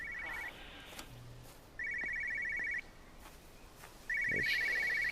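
An old telephone rings in the game Everybody's Gone to the Rapture, sounding three evenly spaced electronic bursts of trilling ring against a quiet outdoor ambience.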